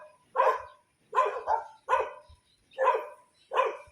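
A dog barks at a zoo and animal sanctuary in Pililla, Rizal, giving five sharp, separate barks at a fairly even rhythm, close and clear with silence between them.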